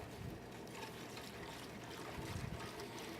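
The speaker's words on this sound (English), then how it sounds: "now we're going to add our hot water" Hot water pours into a salt-and-sugar brine in the kitchen, a faint, steady trickling and splashing stream that continues quietly from start to finish.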